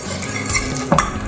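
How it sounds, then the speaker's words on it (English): Coarsely chopped parsley sizzling in oil in a pan. A close, steady crackle is joined by a brief clink of a utensil against the pan near the end, and no one speaks. "And as you can hear, it's already sizzling."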